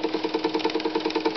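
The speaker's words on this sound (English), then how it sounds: "this is a Jenson steam engine. It's a Model 75." A small Jenson Model 75 model steam engine runs at a quick, even rhythm, a close, steady chuffing pulse of rapid repeating beats with a light mechanical rattle.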